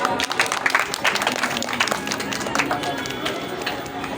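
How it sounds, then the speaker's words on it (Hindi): Sustained, dense applause rises from a crowd at a stage event as a guest is welcomed, with a voice speaking over the steady clapping. "महिमा जी अपने शुभ हाथों से करेंगे स्वागत जोरदार तालियों के साथ।"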